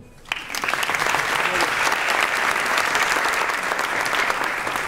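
A theatre audience at a 2019 school staging of İstanbul Efendisi bursts into loud, sustained applause that starts abruptly and holds at a dense, steady roar for several seconds.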